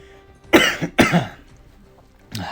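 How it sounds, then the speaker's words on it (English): Two sharp coughs close together near the mic, then a third starting at the end, with quiet room tone between them. "Apologise for the cough as well, that's probably going to persist throughout this video."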